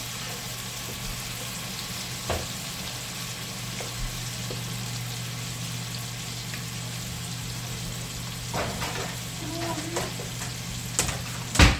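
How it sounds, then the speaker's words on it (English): Meat searing in a pan two pieces at a time while a quick dinner is cooked, giving a steady low sizzle throughout with a few clinks and handling knocks toward the end. "I'm just going to give these guys a sear."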